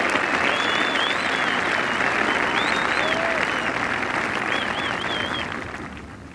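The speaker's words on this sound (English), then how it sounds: "Tremendous applause for Ian Woosnam" Golf spectators at the 1986 Open at Turnberry applaud Ian Woosnam and Gordon Brand, a broad sustained clapping from a sizeable crowd that fades toward the end, with a few faint whistles and calls mixed in.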